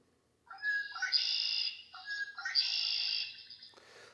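A clear bird song of two long, rich whistled phrases with trilling notes, close and loud, followed by a short rustle.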